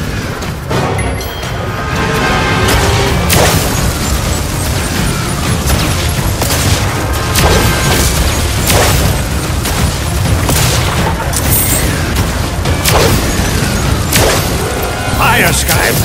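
Repeated booming blasts of cannon fire in Skylanders Imaginators in quick succession over busy game noise, loud and punchy with crashing impacts.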